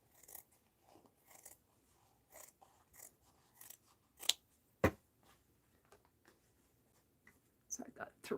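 Scissors snipping through fabric or paper for a mixed-media art journal: a series of soft, close crunchy cuts in irregular short bursts, quiet overall, with a couple of louder snaps near the middle.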